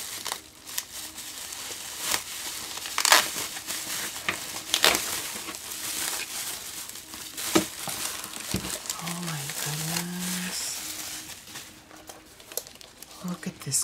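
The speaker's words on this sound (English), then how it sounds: "So let's unwrap it." Gift wrapping is torn and crinkled off a craft caddy, making close, irregular rustling and ripping bursts over about fourteen seconds, with a faint voice partway through.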